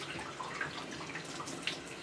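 Warm water runs steadily from a tap at a dog groomer, a continuous hiss and splash held at an even level with no voices.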